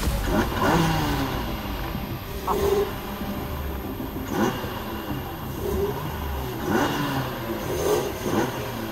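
Race cars at the Saintonge circuit passing by, engines revving and rising in pitch in repeated bursts every second or two, medium-loud and slightly distant, with no talk.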